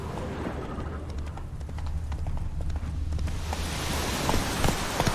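Roach the horse gallops in The Witcher 3, hooves clip-clopping in a steady rapid rhythm over a low rumbling ground with soft rain-like patter, growing slightly louder toward the end.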